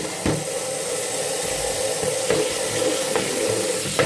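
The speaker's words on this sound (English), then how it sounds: "to stop the water from going down the drain, take a Tupperware lid," Water runs steadily from a kitchen tap into a sink while dinner is cooked, a constant loud hiss with a few brief splashes and clunks, and no talking.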